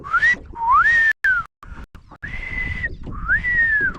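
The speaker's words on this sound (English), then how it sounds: "time to blow the fish whistle" A fish whistle is blown in a series of loud, sliding tones that rise and hold, with short gaps between blasts. It sounds close and carries no talk.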